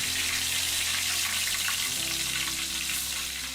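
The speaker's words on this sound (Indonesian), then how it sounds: "lagi masak tempe goreng kesukaan ibu" Tempeh frying in a pan gives a steady, dense sizzle and crackle throughout, close and fairly loud, with faint low hum beneath and no voices.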